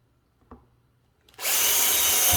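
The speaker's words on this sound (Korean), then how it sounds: "여기다가 구멍을 하나 타공을 내주셔야 돼요" A power drill bores a wiring hole in the door panel of a fourth-generation Kia Carnival KA4. A light tap comes first, then the drill spins up suddenly into a loud, steady, close whine.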